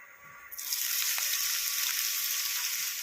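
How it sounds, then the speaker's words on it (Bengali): Chopped onion hits hot oil in a pan with dried chilli and flattened rice, bursting into a loud, steady sizzle that starts about half a second in and holds close and constant throughout. "এরপর চলুন এর মধ্যে দিয়ে দেবো পেঁয়াজ কুচি।"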